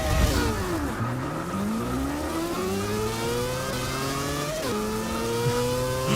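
A 2014 Nissan Juke Nismo RS drag racing in Forza 6, the engine revving hard and climbing through the gears with quick shift breaks, loud and close, no talk.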